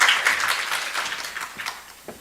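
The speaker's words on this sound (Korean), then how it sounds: "이 박수로 맞아주셔서 감사합니다." A university admissions information session audience in Busan applauds with a soft, dense patter of many hands, fairly distant and fading out over about two seconds.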